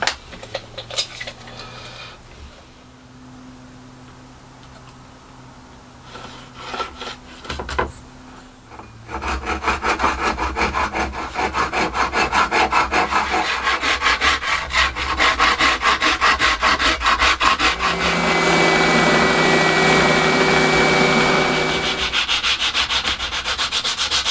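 A small piece of wood being hand-sawn to size for a fridge magnet, starting with quiet handling and a few knocks, then a long run of loud, rhythmic rasping saw strokes close up.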